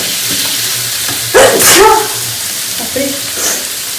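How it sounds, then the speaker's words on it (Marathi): Bamboo shoot vegetable fries in a pan with a steady close sizzle, broken by a few scraping stirring strokes, and a faint voice briefly comes through. "तर इथे मस्त आता फ्राय करून घ्यायचंय"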